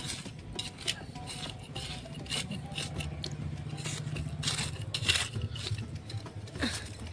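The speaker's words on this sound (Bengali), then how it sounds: "হালকা হালকা করে গাছের গোড়াগুলো খুঁড়ে দিচ্ছি" Small tool digging and loosening tight soil around the base of garden plants after monsoon rain, irregular close scrapes and gritty scratches with soft patter of loose earth, faint background hum.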